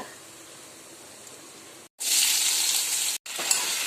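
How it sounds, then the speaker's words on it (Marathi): Cumin seeds and a pinch of asafoetida hit hot oil in a pan for a raw banana stir-fry, bursting into a loud, bright sizzle after a quiet start, briefly cutting out once before the hiss resumes. "तेल टाकले गरम झालं जिरं टाकायचं आहे थोडं थोडासा हिंग"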